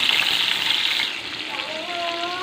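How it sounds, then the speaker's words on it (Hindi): Fish fries in a small amount of hot oil, giving a loud, dense, continuous sizzle close up, with faint tonal voice-like sounds toward the end. "मु अल्प तेल पकई अल्प अल्प करी मुझे"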